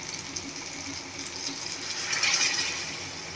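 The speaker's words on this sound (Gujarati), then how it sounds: "હવે એટલે આપણે આમાં પાણી એડ કરશું" About a glass of water is poured into a pot of spiced Kathiyawadi-style mung bean curry, making a short, steady splashing pour that swells briefly near the end, with no talking.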